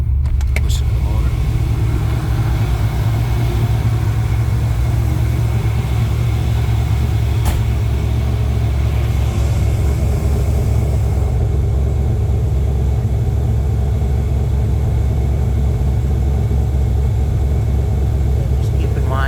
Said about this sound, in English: Go out and show you the exhaust again and listen to the motor.